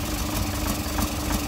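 Toyota Prado 2014 1KD-FTV diesel engine (KDJ150R, automatic) idling during a decarbon flush, with a steady low rumble and a faint rhythmic knock running continuously with no talk.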